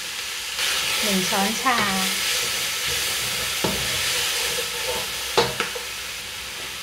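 Salted mackerel fried rice being stir-fried in a pan gives a steady close sizzle with scattered scrapes and clinks of a utensil against the pan, while someone talks over it.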